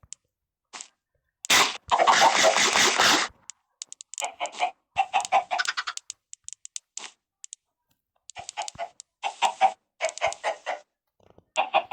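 Blocky chickens in a Minecraft chicken farm, a burst of dense clucking followed by scattered short clucks and squawks, fairly close, with some clicking between.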